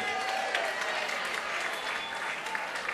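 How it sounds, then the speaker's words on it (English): Audience applause for a live radio-style variety show, a steady, dense wash of many hands clapping at close range, continuing evenly throughout with no voices on top. "let's hear it for Richard Halpern's Hollywood Cavalcade"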